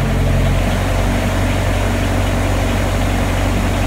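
A Sherp all-terrain vehicle engine runs steadily while warming up, giving a close, constant low rumble with a rough, throbbing tone and no pauses.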